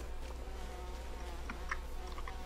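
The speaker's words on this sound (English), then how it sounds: "Go away, bees." Bees swarm and chase the player in the video game We Happy Few. A quiet, steady insect buzz drones under a low hum, with a few faint clicks and no talking.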